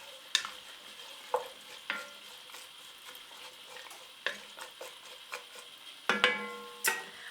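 Chicken soup ingredients stirred in a pot give a series of spaced clinks and knocks of a utensil against the pot's sides over a faint low simmer, fairly close and quiet.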